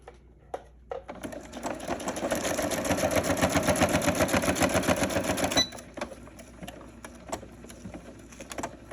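A sewing machine stitches through layered junk journal paper scraps in a fast, steady mechanical run of several seconds, close and clear, then stops, leaving sparse handling clicks.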